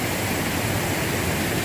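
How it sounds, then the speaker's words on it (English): Fast-running creek water rushes steadily near Cathedral Falls on Goat Creek Trail, a close, dense broadband roar without breaks. "The water's running too fast"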